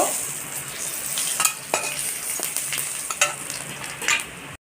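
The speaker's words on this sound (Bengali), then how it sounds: "তেলে তেজপাতা আর গোটা জিরে ফোড়নে দেব" Bay leaf and whole cumin spluttering in hot oil for a fish curry with cauliflower and potato, a steady close sizzle with sharp crackling pops scattered throughout.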